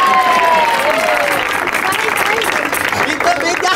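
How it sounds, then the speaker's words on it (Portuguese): Audience applause at a live comedy stage show in Aracati, Ceará, a dense steady clapping wash filling the whole stretch at close range, with crowd babble and a voice briefly heard underneath. "Atenção, pessoal, prepare os aplausos."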